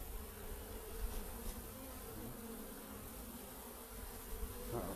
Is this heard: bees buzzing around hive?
yes